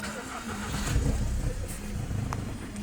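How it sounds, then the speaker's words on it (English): A 2007 VW Jetta engine cranks and catches, a low mechanical rumble swelling briefly then settling into a quiet idle, faint and slightly distant under background noise. "So let me start the car"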